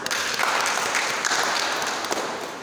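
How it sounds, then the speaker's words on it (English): An audience at a church gathering applauding, a dense wash of many hands clapping together at moderate distance, swelling slightly and then tapering over a few seconds. "You can clap for us."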